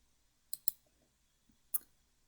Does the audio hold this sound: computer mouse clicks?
yes